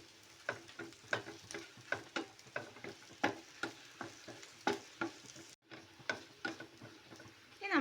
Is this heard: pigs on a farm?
no